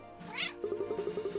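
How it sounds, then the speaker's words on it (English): A cartoon cat meows in the video game Cat Quest, one drawn-out call followed by a quick rhythmic series of short meows over a steady game music tone. "Finally, a cat has come to our aid."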